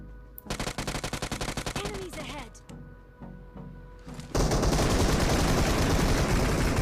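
Rapid automatic gunfire in a BGMI battle royale fight, a quick burst of sharp shots, then scattered single shots and a loud sustained noisy stretch of action near the end.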